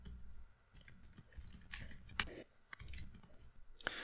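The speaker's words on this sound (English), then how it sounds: "So let me type this out really quick." Quick bursts of key clicks on a computer keyboard, soft and close, tapping in irregular runs with brief pauses between words, no talking over them.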